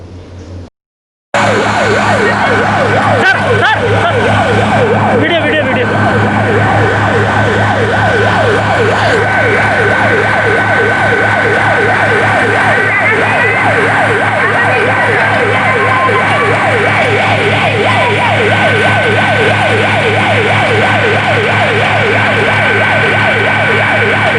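Fire truck and police sirens wail loudly and continuously, their rising and falling tones overlapping over a rumbling engine, very close for the whole stretch.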